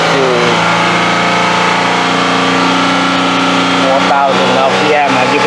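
A car engine with a four-cylinder misfire revs up toward 4,000 RPM, holding a loud, steady mid-pitched drone with uneven changes in tone near the end, close to the mic and alone.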